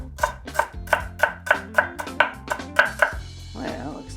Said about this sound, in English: So I'm just gonna chop this nice and small.